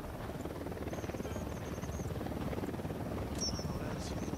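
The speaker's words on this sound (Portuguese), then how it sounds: "Helicóptero da unidade em patrulha." A patrol unit helicopter in Ghost Recon Wildlands drones with a steady rotor chop throughout, loud and continuous, with faint chirps over it.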